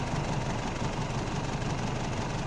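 An Isuzu D-Max engine runs at a steady idle just after starting, a constant low rumble with even vibration and no talk over it.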